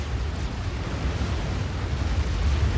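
Artillery shells rain down on an enemy base in the Supreme Commander strategy game, a dense continuous rumble of overlapping explosions with heavy low-end booming that stays loud throughout, with no voices.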